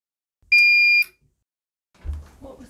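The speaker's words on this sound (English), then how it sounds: "that startup beep isn't really needed, is it?" A single loud electronic startup beep from an Artillery Sidewinder X2 3D printer, a steady high tone lasting about half a second, followed after a pause by faint muffled rustling and low sounds.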